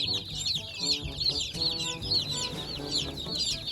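Seventy young broiler chicks in a rural coop, a constant flock of high-pitched peeping and chirping with lower clucks beneath, close and busy.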